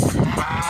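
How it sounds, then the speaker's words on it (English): Chinese goose honking loudly and close, a rapid run of nasal honks across a brief burst with no talking. "I think that's they call him Chinese goose"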